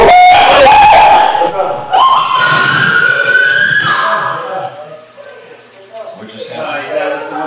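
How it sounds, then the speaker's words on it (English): A woman's loud, sustained scream rises and wavers, played back from a paranormal investigation recording, with a siren-like pitch and a second cry near the end. "that was the woman screaming"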